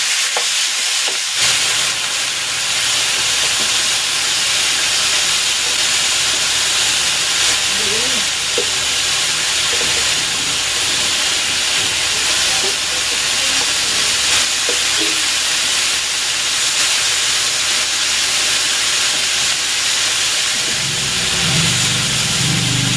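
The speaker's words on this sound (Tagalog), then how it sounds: "I-sear ko muna itong pork ribs." Pork ribs sear in hot cooking oil, giving a loud, steady sizzle and hiss that holds for more than twenty seconds with faint stirring and clatter beneath it. Near the end there is a brief low rumble.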